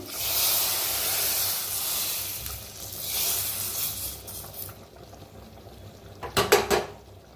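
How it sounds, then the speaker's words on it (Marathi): Hot mustard-seed tempering poured over cooked dill greens, with a broad hissing sizzle at first that fades, then a few sharp metallic clinks of a spoon against the pan near the end. "आता ह्याच्यावर गरम गरम फोडणी ओतूया आपण।"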